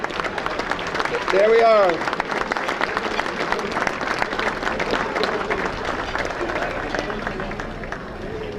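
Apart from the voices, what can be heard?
audience applause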